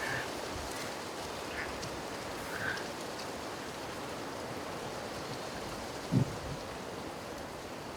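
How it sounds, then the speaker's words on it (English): A duck quacks a few times near a fishing lake in winter, small and brief calls set against a steady hiss of rain or running water, fairly faint and distant. "The duck laughing at me."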